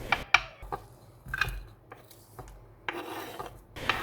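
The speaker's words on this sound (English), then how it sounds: "taking half a tomato, removing the pulp, and slicing it" Knife cutting through half a tomato with its pulp removed, a series of short, crisp slicing strokes and soft rasps on a board, close and fairly quiet, no talking.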